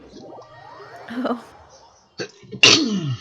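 A man lets out a sharp sneeze close to the microphone after some quiet shuffling and a short vocal sound, with a brief spoken word in the mix.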